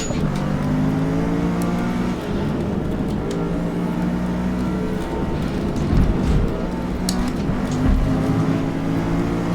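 Race car in the Forza Motorsport video game, its engine droning loudly and continuously at high revs with small pitch changes through a lap.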